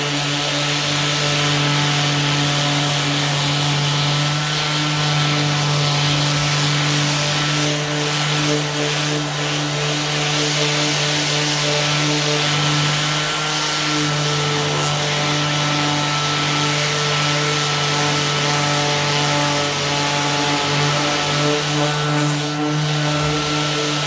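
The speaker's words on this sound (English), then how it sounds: "Now I'm just going to take a DA over it, and that way I'll finish it off" A DA sander with 80 grit works a fiberglass door on a 1969 C3 Corvette, a loud, close, continuous whirring hum with scratchy grinding that holds steady throughout.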